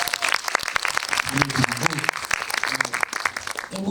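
Applause from an audience at a tenth-anniversary premiere-eve event for a Korean film, a short burst of scattered clapping at moderate level, with a voice speaking over it.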